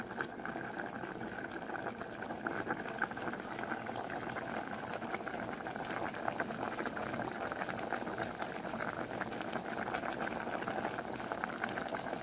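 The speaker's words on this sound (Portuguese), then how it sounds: "Gostoso ver a panela ferver" A pot bubbles at a steady boil, a dense, even simmering hiss that carries on without pause.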